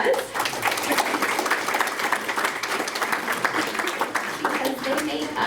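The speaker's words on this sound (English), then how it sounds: "So let's give them all a round of applause." An audience at a senior independent living community meet and greet breaks into a round of applause, giving dense steady clapping for several seconds with a few voices and light chuckles mixed in.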